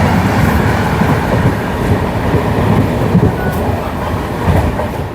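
A train rumbles past on the opposite track while riding in a North East Express general coach in cold weather, a steady loud clatter of wheels and rolling stock filling the whole stretch without pause.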